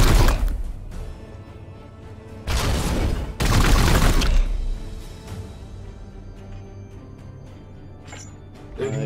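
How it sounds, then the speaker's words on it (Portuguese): Gunfire and explosive bursts in the turn-based tactics game Warhammer 40,000: Chaos Gate Daemonhunters, two loud heavy volleys in the middle, then quieter rumbling and clatter, with no talk. "eu vou começar atirando aqui para dar o disparo de apoio"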